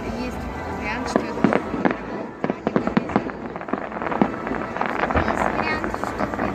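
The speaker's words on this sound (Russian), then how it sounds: "Потому что салют." Fireworks in a night salute burst in a rapid crackling series of sharp bangs, some close and loud, over wind noise, with people talking and exclaiming.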